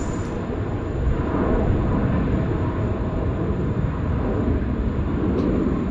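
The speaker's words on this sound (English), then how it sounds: "It is slowly taxiing around the corner now." Scoot airliner taxiing at Sydney Airport, a steady broad engine rumble and roar that holds at a fairly loud level throughout, with no voices.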